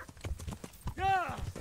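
Horse hooves clip-clop in Kingdom Come: Deliverance, a steady rhythm of close, distinct footfalls across the whole stretch, briefly overlapped by a rising and falling tonal cry near the middle.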